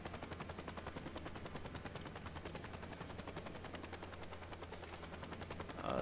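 Rapid gunfire from a video game shooting gallery at an arcade, a steady stream of repeated shots running dense and loud for the whole stretch with no talk over it.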